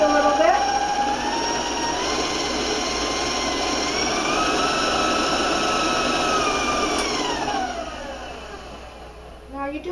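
An electric stand mixer beating lemon pound cake batter at a raised speed, giving a loud, steady whirring drone with a gradually shifting pitch that drops off near the end.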